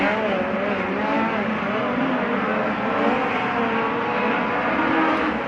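A pack of race cars roars away at the start of a 30-lap main event at Placerville Speedway, a dense, continuous engine howl with rising pitch and no let-up.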